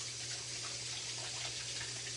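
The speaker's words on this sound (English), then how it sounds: "I gotta wash my fingers off 1 second." Tap water runs into a kitchen sink while someone rinses garlic off their fingers, a soft, steady rushing that stays faint and unchanged throughout.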